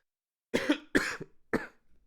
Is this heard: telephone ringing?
no